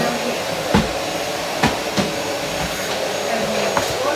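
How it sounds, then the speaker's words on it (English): A small vacuum cleaner runs over a table area with a continuous close whine and rush, broken by a few sharp knocks and bumps as it moves. "this is how nice my little vacuum cleaner is"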